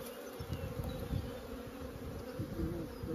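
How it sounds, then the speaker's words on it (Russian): Honeybees swarm around hives at an apiary while new colonies are bought and set up, a dense, continuous buzzing hum that stays close and loud throughout with no talking. "Пчела есть, да."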